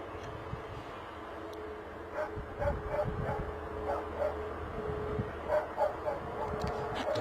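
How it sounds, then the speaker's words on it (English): A dog barks and yips repeatedly at Bristol Airport, in bursts over a steady low mechanical hum. The barking is moderately distant, with a brief whimpering edge. "That dog's got a lot to say, hasn't he?"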